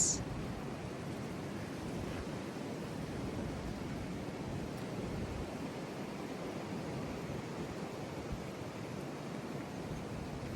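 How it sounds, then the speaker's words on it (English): Wind storm buffeting a tent with its rain fly on, heard as a steady, broadband roar of gusting air that stays fairly even and moderately quiet throughout, with no voices. "thing is withstanding the wind like nobody's business."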